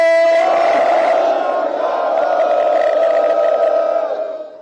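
Large outdoor crowd at a Shiromani Akali Dal political rally roars a sustained collective shout of 'Sat Sri Akal' in response to the Sikh slogan Bole So Nihal, loud and dense throughout before tailing off.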